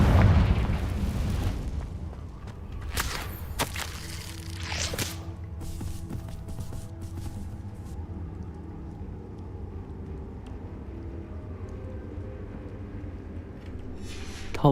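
Confringo fire spell explosions in Hogwarts Legacy, with several sharp booming bursts early on fading into a lingering rumbling tail and scattered crackles over a steady game background.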